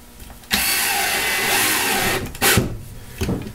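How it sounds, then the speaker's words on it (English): A cordless drill driver whirs steadily as it drives a quarter-inch sharp-pointed drywall screw, running close and loud for about two seconds, then stopping, followed by short bursts and clicks. "Now let's use our drill driver to try and drive a screw."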